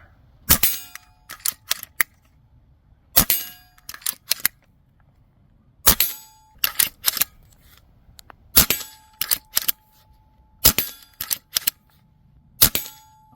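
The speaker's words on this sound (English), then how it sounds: "So we'll start off here in a single shot, rip a few shots out." A Karma SLS side-lever air rifle fires single shots, about six sharp, close cracks spaced a couple of seconds apart. Each shot is followed by quick clicks and clacks as the side lever is cycled between shots.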